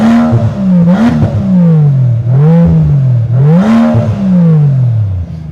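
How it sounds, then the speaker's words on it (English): A Rolls-Royce with a Mansory exhaust and V12 engine revs loudly up close, climbing and falling through several repeated throttle blips with a deep, smooth exhaust note and no voices. "It's a very nice and decent sounding V12, but extremely dominant"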